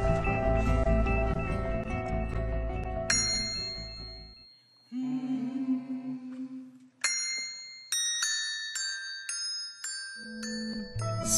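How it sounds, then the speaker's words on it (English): Schwinn bicycle bells played as a choir performing holiday carols, bright ringing dings struck one after another in a melodic sequence, some notes ringing out alone with brief silent gaps. "the Schwinn Bell Choir is here to play what we call e-carols, holiday songs"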